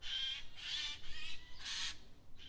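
Migratory birds give a few harsh, squawking calls, four or five drawn-out cries spaced fairly evenly, faint and somewhat distant, with no voices.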